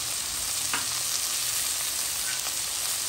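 Onions for a rougail fry in a pan with a dense, continuous sizzle, loud and close, plus a few faint scrapes of stirring and no voices.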